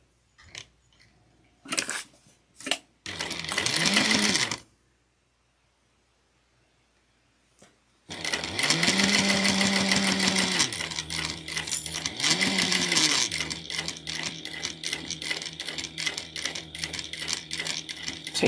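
A sewing machine stitches a clutch wallet in bursts: a short run, a pause, then a longer steady run of rapid mechanical chatter close by, with a few isolated clicks between.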